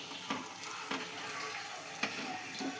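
An egg lollipop fries in a pan with a soft, steady sizzle, faint and even, broken by a few light taps and scrapes of a utensil.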